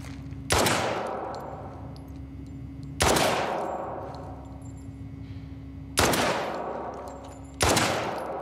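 Four single loud, sharp gunshots from a weapon in The Last of Us Part II, spaced a few seconds apart, each ringing out with a long decaying echo over a steady low hum.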